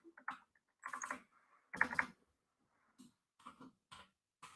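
Code being typed on a computer keyboard in irregular bursts of close, crisp key clicks separated by short pauses, with no talking.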